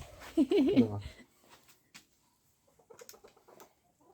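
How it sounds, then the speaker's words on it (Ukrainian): A rooster on a rural homestead crows once, loud and close, near the start, followed by quieter scattered clucks and rustling from the farmyard. "тільки почав кукарекати"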